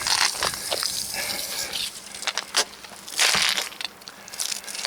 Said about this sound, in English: The water is gushing out of here.